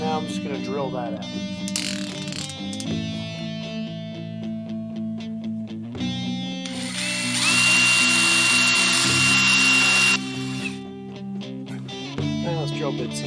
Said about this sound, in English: And now I'm just going to drill that out.